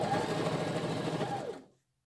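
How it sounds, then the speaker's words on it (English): A sewing machine hums steadily while stitching two pieces of fabric for a welt pocket on a coat or jacket, close and even, then slows and stops abruptly into silence. "All we've done is just stitch those two pieces of fabric together."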